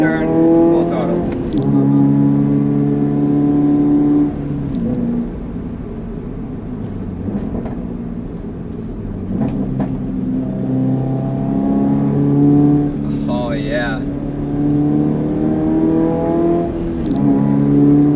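A Toyota GR86 accelerates hard at full throttle out of a sharp left turn, its engine note climbing in repeated rising sweeps through the gears, loud and close, with talk over it.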